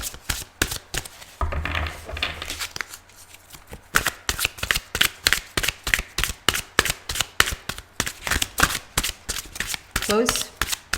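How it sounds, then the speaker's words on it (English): A deck of tarot cards is shuffled in rapid, crisp riffling bursts that repeat steadily and sound close. A voice speaks faintly in places. "If you don't like the shuffle, please fast forward."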